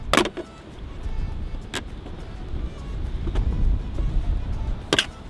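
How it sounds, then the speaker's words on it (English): Plastic trim is pried loose inside a Jeep, several sharp clicks and snaps standing out from a low interior rumble, the loudest pops near the start and end. "it popped out way easier than I expected"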